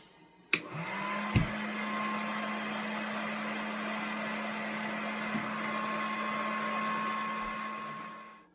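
A heat gun warms a vintage fisherman knife's handle for removal, clicking on and then blowing with a steady, close whirring hum that holds evenly until it shuts off at the end.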